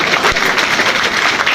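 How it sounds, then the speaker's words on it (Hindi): Children clap together on request in a seminar hall, a steady, dense patter of many hands filling the room for a brief stretch, with no voices over it. "ताली बजा दो"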